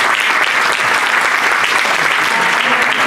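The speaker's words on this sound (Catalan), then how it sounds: "un aplaudiment per ells" Audience applause at a horror film festival award ceremony, a dense, steady wash of clapping from a large crowd that stays loud and unbroken throughout.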